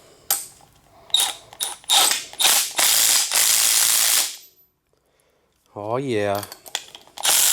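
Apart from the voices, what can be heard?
M12 Fuel power ratchet tightening fuel pump fittings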